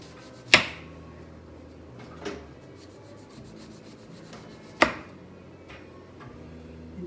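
A knife slices through a navel orange on a cutting surface, giving two sharp close cuts with softer scraping between them in an otherwise quiet room.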